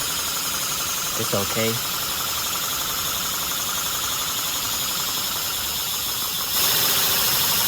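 A small model inline four-cylinder engine driven by compressed air runs steadily at a low, even rev, a constant close mechanical whir that grows a little louder near the end, while a voice speaks briefly over it.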